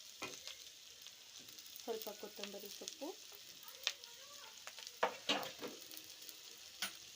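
Chicken curry masala frying in a pan, a steady soft sizzle with occasional scraping and stirring clicks, close and fairly quiet, no talking.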